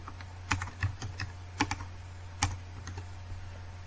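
Typing on a computer keyboard while entering a word in Microsoft Word: a short run of a dozen or so close, crisp key clicks at an uneven pace over a low steady hum, with no speech.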